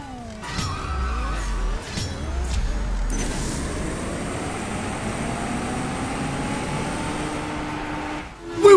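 A Mazda Veilside Fortune RX-7 races in CSR Racing 2, its engine revving up through several gear shifts with rising and falling tones over a constant road rush, ending in a sharp loud burst.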